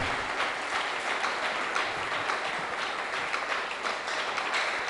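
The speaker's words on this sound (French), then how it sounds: "Est-ce qu'on peut acclamer pour la gloire de Dieu?" Sustained applause from a church congregation at a Sunday service, a dense, even wash of many hands clapping that holds steady throughout.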